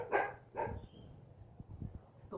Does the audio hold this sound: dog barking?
yes